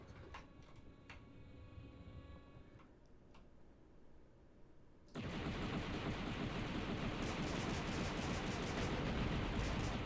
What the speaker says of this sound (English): Pulse cannon.